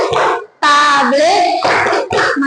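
Children clap their hands in a rhythmic tepuk clapping game during a classroom Islamic lesson, with short hand claps mixed among chanted voices.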